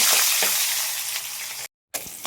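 Loud, continuous sizzling of fish frying in hot oil with crackling pops, briefly cut off by a moment of silence before resuming.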